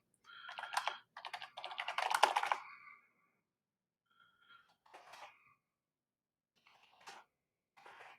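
Bursts of typing on a computer keyboard, close and fairly crisp, with quick clustered keystrokes at first and then shorter scattered taps after a pause, with no voices.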